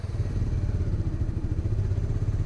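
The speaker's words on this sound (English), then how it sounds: "Kickstand up, kick it down into first, no throttle" A motorcycle idles in first gear with no throttle, a steady close low engine chug with faint mechanical clatter, continuous and even throughout.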